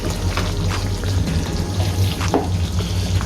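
Chicken makhni karahi cooking in a karahi pan, a loud continuous sizzle and bubbling with occasional scrapes and clinks over a low steady rumble, no talking.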